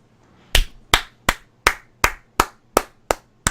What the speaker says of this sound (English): I'm golf clapping this.